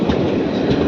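A train runs steadily and loudly close by, its rolling wheel rumble continuous with a faint clickety-clack through the short stretch.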